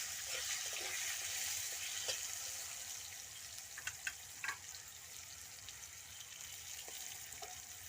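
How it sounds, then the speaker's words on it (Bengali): Potatoes sizzling in a pan alongside dried chilli and whole spices, a soft continuous frying hiss broken by a handful of brief utensil clicks and stirs, with no voices. "আলুগুলো ভেজে নেব আগে"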